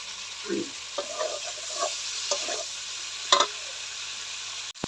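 Vegetables stirred and sautéed with spices in a pan for a fish curry, with a low sizzle under a few scraping stirs and clinks of a spoon, fairly quiet and steady.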